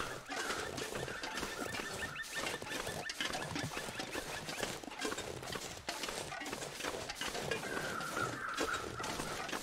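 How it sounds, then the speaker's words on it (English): Crows cawing in the snowy wilderness of the survival game The Long Dark, repeated calls scattered through a steady, dense ambient wash of wind and game sound, with no talking. "All of the crows I can hear."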